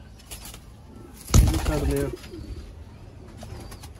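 Breeder pigeons kept by a hobbyist give a short burst of cooing with a brief flutter near the middle, fairly close, while someone talks quietly around it.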